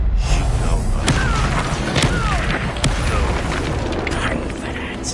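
A Confringo blast spell in Hogwarts Legacy bursts amid a duel, heavy low booming with several sharp cracks and impacts spaced through the clip, loud and continuous, with game voices mixed in.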